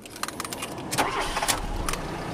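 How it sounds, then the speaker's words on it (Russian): A Fiat Punto car engine starting, a brief cranking followed by the engine catching and running steadily, heard close up over a few seconds. "Так, заведем автомобиль."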